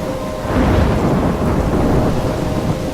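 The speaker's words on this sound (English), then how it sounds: "trapped in a storm?" Thunderstorm with heavy rain in the video game Life is Strange, a dense steady roar of rain under low rolling thunder, loud and continuous.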